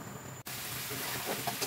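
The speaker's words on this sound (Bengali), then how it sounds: "মাংসটা ভালো করে নেড়ে চেড়ে ভাজা ভাজা করে কষিয়ে নিচ্ছে" Meat fries with spices in a kadai as it is stirred and browned down to a dry kosha finish, a soft steady sizzle with faint scraping after a short break.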